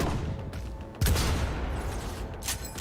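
Distant gunfire in a video game: a dull burst of shots opens a sustained, noisy rumble with a second flare near the end, far off and with no talk over it.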